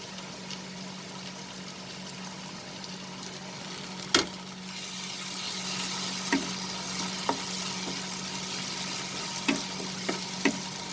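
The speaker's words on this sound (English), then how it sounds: "Now I am going to add the ginger garlic paste." Ginger garlic paste hitting hot oil with partly cooked onions in a pan, a steady close sizzle with occasional sharp pops and stirring clicks, no voices.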